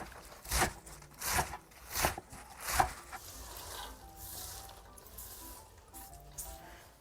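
A knife cutting Korean green onions into thin slices on a board, four evenly spaced soft chopping strokes close up, followed by quieter scraping and shuffling.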